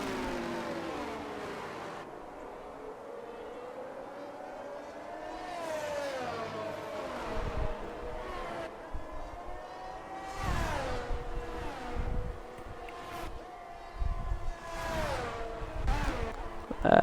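Racing cars in a sim racing league race at the Belgium round, engines droning and shifting pitch as a train of cars passes, with whooshes of passing cars growing louder toward the end under quiet commentary.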